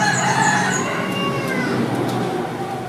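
A fighting cock at a gamecock farm crows close by, one strained, drawn-out call that fades off, followed by soft clucking and faint background bird noise.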